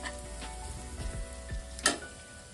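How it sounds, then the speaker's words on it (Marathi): Coriander-cumin powder, turmeric and asafoetida fry in hot oil for a moong dal kachori filling, giving a soft, steady sizzle with a few light crackles and one sharper burst near the end, close and quiet. "धना जिरा पावडर, हळद, हिंग फ्राय करून झालं थोडं"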